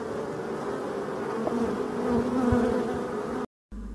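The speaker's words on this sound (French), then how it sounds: "Vol d'orientation, on voit des grosses abeilles. Donc ça c'est les abeilles d'hiver." Large winter honeybees on an orientation flight in front of a forest hive make a continuous close buzzing drone that swells slightly midway, with individual bees passing nearby, before a brief cut near the end.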